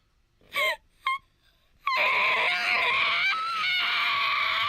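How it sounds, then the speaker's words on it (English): A character in the video game Kai no Kiseki lets out an intense, drawn-out scream after two short vocal cries, the shriek loud, close and sustained for several seconds with no other talk over it. "that scream is crazy"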